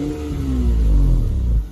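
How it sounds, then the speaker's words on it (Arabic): A car engine revs with a loudspeaker fitted in the exhaust, giving a loud, close mid-pitched roar with a tone that slides downward over under two seconds before dropping off. "طبعا هذا صوت السيارة راح نسمعه."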